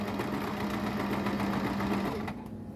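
Sewing machine stitching fabric, a close, fast continuous mechanical whirr with a steady hum that runs for about two seconds before slowing and dropping off at the end.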